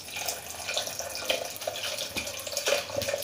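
Cold water poured into a mango juice mixture in a home kitchen, a steady close splashing and trickling stream with small bubbling accents, heard alone without talk.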